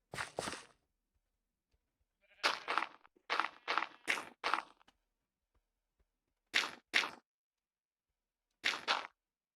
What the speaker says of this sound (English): Now, is that a different gray sheep, or did the gray sheep return?